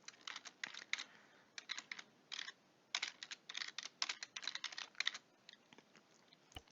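Fingers typing on a computer keyboard, quick bursts of close, crisp clicks with short pauses between runs of keystrokes, set in a quiet room.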